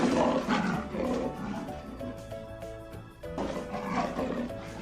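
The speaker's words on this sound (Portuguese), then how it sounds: "É do leão!" A lion gives a deep, drawn-out roar, loud and close, swelling in two long rumbling waves with a brief dip between them, no voices over it.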